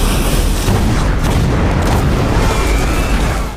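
A huge siege cannon fires with a deep, loud boom that rolls out as a sustained low rumble for several seconds, with no voices over it.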